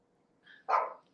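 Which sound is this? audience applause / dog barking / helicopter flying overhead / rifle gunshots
dog barking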